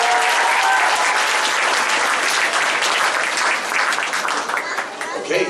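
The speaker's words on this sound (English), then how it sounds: "Can we give a round of applause for Eli on the drums?" An audience at an orchestra concert breaks into warm, sustained applause, a dense wash of clapping that thins out toward the end.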